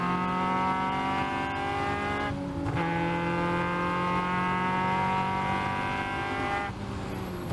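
A Caterham race car engine accelerating out of a turn on track, a steady sustained engine drone with layered harmonic tones, briefly dipping and shifting pitch mid-way as the throttle changes, loud and close.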